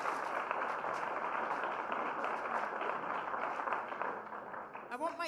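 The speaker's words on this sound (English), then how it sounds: "Can we give another round of applause for Emily Jean?" An audience at a Creative Mornings event in New York claps in a dense, steady round of applause for several seconds before it thins out and a voice begins.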